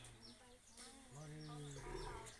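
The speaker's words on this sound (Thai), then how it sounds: "มีเสียงคำรามด้วย" An animal roars in a long, drawn-out, tonal call that rises and wavers over a couple of seconds, heard faintly and at a distance.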